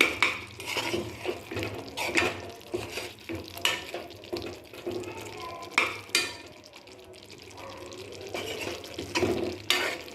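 A spoon stirs roasted spices into kadhi in a pot, making repeated wet scraping strokes and soft clinks against the metal, with a faint low simmer beneath.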